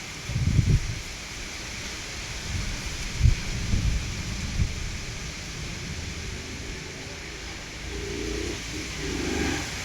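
Steady rain hisses throughout while low thunder rumbles roll in a few times, loudest near the start and again midway.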